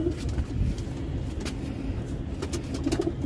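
Pigeons of fancy breeds at a seller's stall, soft low cooing running throughout under a steady noisy background, with faint traffic nearby and no clear talk.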